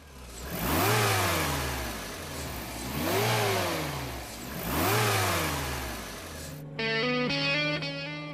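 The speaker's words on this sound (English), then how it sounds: "This G-loader scroll-type supercharger provides plenty of power." A VW Golf II Rallye G60 with a G-Lader scroll supercharger revs hard three times in a row, each rise and fall clear and close, then settles into a steady idle.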